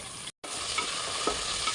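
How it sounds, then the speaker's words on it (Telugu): Chicken fry piece biryani with mint and cashews being stirred in a hot pan, a steady close sizzle and scraping with one brief break. "మంచిగా కలుపుకొని కొత్తిమీర వేసుకోవాలండి దీన్ని మంచిగా ఫ్రై చేసుకోవాలి మనం"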